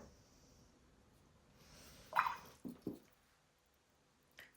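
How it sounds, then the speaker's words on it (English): A watercolour brush being rinsed in a jar of water gives a few soft, quiet splashes and drips in a short cluster, then a single faint dab near the end, with near silence around them. "Rinse off the brush."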